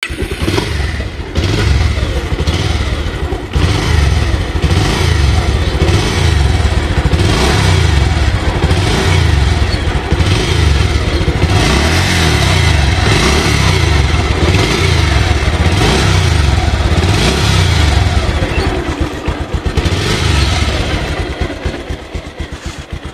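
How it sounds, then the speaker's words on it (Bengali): A Bajaj Pulser 150cc motorcycle engine runs loud and close, idling with repeated throttle revs rising and falling over a steady mechanical clatter, no talk. "এবার যদি আমি আপনাদেরকে শোনাই বাইকটির ইঞ্জিন সাউন্ডটি"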